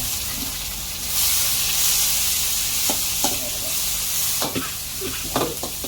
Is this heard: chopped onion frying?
yes